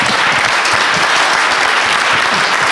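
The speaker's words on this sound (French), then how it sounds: "Donc on peut applaudir tout le monde" Dense, steady applause from a conference audience fills the room, loud and continuous throughout with no talk on top.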